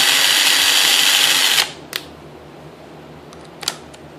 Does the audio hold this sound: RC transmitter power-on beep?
no